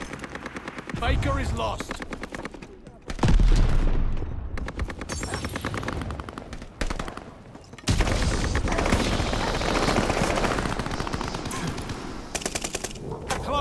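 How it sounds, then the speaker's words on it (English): Rapid machine-gun strafing fire in the World War II shooter Call of Duty: Vanguard, sustained loud bursts with heavy booms, broken by short pauses, while a radio voice speaks briefly over the gunfire. "Hostiles are strafing us."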